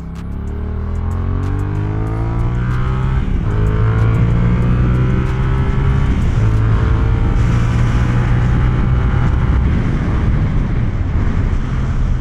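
A close Yamaha R7 motorcycle engine revs and holds a steady, loud roar, pitch climbing and settling as the throttle is worked, with no talking.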